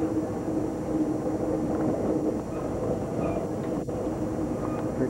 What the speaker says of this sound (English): we're passing by another train right here, as you can see